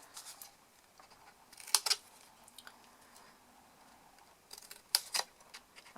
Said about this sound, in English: with just my paper snips, and it doesn't really matter which way around you do this, we'll just cut the corners and cut some little wedges